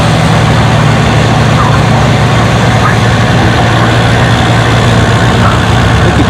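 A pulling tractor in the 3,250-pound, 6 mph class drags a weight sled at a tractor pull, its heavy engine a loud, steady low roar and rumble throughout, with crowd and announcer-style noise mixed in.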